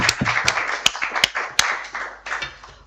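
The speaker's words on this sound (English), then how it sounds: "Can we please give them a round of applause?" Applause at a report launch and stakeholder roundtable, a short spell of scattered, uneven clapping with a few sharp individual claps standing out.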